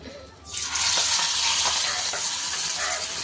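Curry leaves hit hot oil in an iron kadai and burst into a loud, sustained, crackling sizzle that swells within a second and stays steady and close, with a faint voice underneath.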